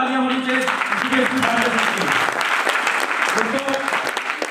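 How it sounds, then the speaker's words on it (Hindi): Loud, sustained applause from an audience at an AWPL leaders' gathering in India, with some voices and tonal sounds heard through the clapping. "मैं चाहता हूँ एक बार जोरदार तालियां होनी चाहिए"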